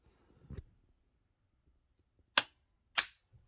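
A Bushmaster XM15-E2S 5.56mm AR rifle with a mil-spec trigger gives sharp, crisp clicks as the trigger resets, two close snaps in quiet after a softer earlier click.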